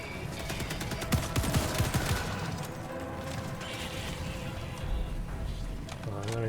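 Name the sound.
enemy gunfire from Squid snipers in video game Helldivers 2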